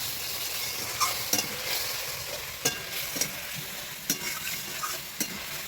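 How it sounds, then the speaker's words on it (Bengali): Potatoes frying with ground ginger, cumin and dried chilli paste, a steady hiss of sizzling oil with several sharp spoon clinks and scrapes against the pan, close and without voices. "এখন এই বেটে রাখা মশলাগুলো ভালোভাবে সব আলুর সঙ্গে কষিয়ে নেব।"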